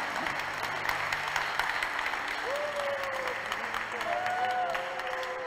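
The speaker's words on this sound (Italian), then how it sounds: "un grande applauso a Pinuccio" Sustained applause from the congregation at a Catholic mass honoring the Venerable Francesco Convertini, steady crowd clapping filling the whole stretch, with a faint whistle-like tone and a voice partly under it.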